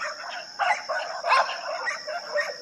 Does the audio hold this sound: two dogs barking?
yes